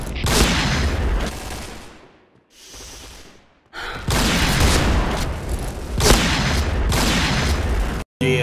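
Grenade blasts and gunfire from the video game Point Blank, loud bursts of explosions and rapid shots in several surges with a brief lull between them.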